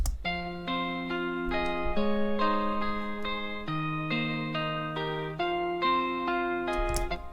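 A bright synth line weaves a counter melody above sustained chords, steady and clear with no voices.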